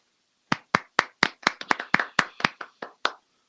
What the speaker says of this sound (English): we're clapping for black folks